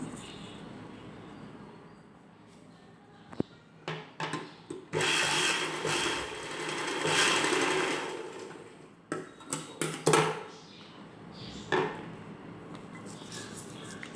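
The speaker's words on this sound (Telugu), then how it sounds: "ఇప్పుడు పై వైపున ఇంకొక కుట్టు వేసుకుందాము." Sewing machine stitching a second seam along the top side of cloth for an umbrella-cut dress top, running in stuttering bursts and one longer continuous whirr, with clicks and rustles between runs.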